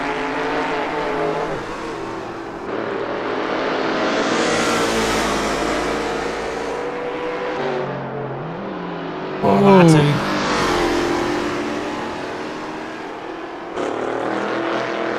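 Race cars in a sim racing touring car championship roar and rev continuously, engines rising and falling as they pass, with a commentator talking over the racing throughout.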